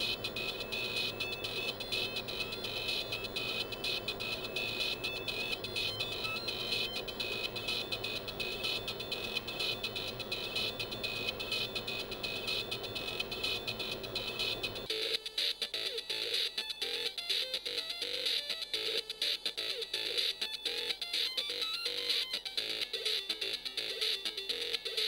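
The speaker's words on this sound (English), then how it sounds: "The wavetable mixing engine in the award-winning demo 8088 miles per hour uses pulse width modulation techniques for output." An IBM PC internal speaker plays the 8088 MPH demo's wavetable music through pulse width modulation, a dense buzzy, chiptune-like tone with steady sustained texture that shifts partway through into a choppier, more rhythmic pattern, with no talk.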